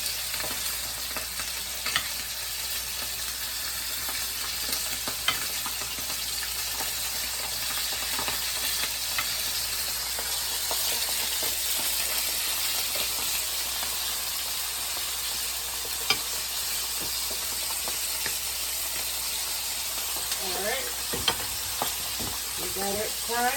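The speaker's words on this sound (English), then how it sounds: "we're going to put it in the hot grease" Chicken wings fry in a pot of hot grease with a steady, dense crackle and sizzle, accompanied by occasional clinks and scraping of a utensil, at moderate distance without talk.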